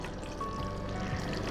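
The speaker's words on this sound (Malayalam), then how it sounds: "ഞാൻ അതിൻ്റെ മുകളിലേക്ക് ഇങ്ങനെ ഒഴിക്കാൻ പോവാം കേട്ടോ" Cream is poured over chicken tikka masala in a home kitchen, making a soft, quiet liquid trickle against low background noise.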